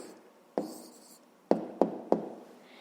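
Pen or chalk writing out the answer to a fifth-grade math problem: a handful of sharp taps and short scratchy strokes, close and fairly quiet, with no one speaking.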